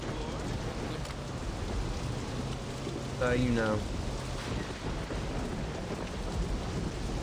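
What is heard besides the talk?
rain and thunder in the video game Saints Row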